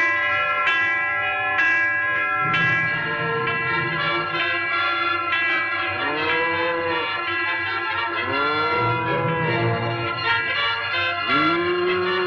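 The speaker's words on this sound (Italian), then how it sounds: "Oi, la campana, segnale." A church-style bell rings out as a signal, its struck tones repeating with long ringing overtones and gliding echoes, fairly loud and alone with no voices.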